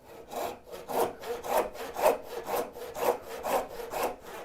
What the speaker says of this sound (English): this saw is turning to the left a little bit